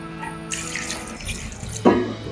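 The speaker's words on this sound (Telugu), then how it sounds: "ఇప్పుడు దీంట్లో రెండు గ్లాసుల వాటర్ పోస్తున్నా" Water splashes and pours steadily into a cooking pot of soya chunks pulao, with a brief louder gush near the end; no voices.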